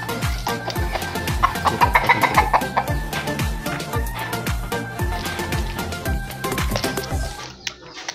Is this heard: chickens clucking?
yes